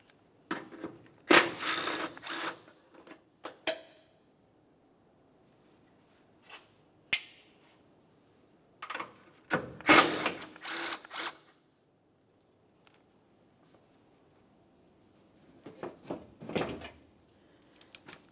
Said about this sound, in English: We're going to remove 2 more 10mm headed mounting bolts.